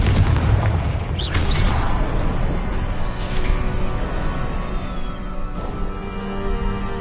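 A Confringo fire spell explodes in Hogwarts Legacy, a loud booming blast with a fiery burst that rolls on in a dense, sustained roar over steady game ambience.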